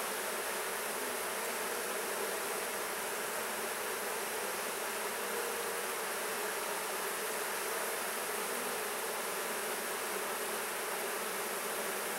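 Honey bees swarm around an open hive, making a steady, dense buzzing hum that continues unbroken from start to finish at an even, moderate level with no talking.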